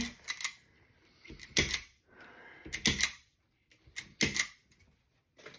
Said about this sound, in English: You pull the trigger and it tightens and clips the zip tie.